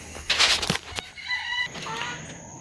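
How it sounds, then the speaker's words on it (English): Backyard chickens clucking and crowing nearby, with squawks, a rooster-like call and a flutter of wings, fairly loud and close. "Rest of the chickens are all out there having a great time digging around in the yard."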